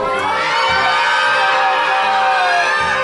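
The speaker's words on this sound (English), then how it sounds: "Everybody scream! Scream!" A live audience at a comedy show screams and whoops together in a loud, sustained, high-pitched crowd roar that continues without a break.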